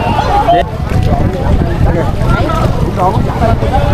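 Wind and rushing water noise from a moving round basket boat at Cam Thanh near Hoi An, Vietnam, with excited voices talking loudly over the steady whoosh.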